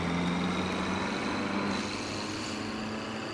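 A continuous droning tractor engine hum in BeamNG.drive, a modded Bruckell 9, with a steady low tone and broadband rumble, like a heavy vehicle idling or driving, close and constant, without speech.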